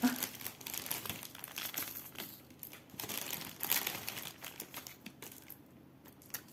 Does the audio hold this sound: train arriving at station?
no